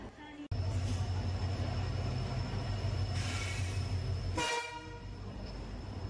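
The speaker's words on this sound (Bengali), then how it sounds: "ওয়ান 3148 উত্তরবঙ্গ এক্সপ্রেস প্রায় আধ ঘন্টা লেটে নিউ কুচবিহার স্টেশনে ঢুকছে এখন" Uttarbanga Express train rolling into New Coochbehar station, a loud continuous rumble of wheels and carriages close by, with a horn toot midway and a brief sharp bang near the start.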